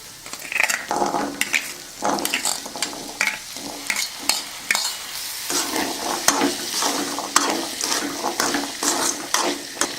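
Chickpea sundal with onions is stirred in a pan, with a spoon scraping and clattering in irregular bursts over a soft sizzle, close and fairly loud, with no voices.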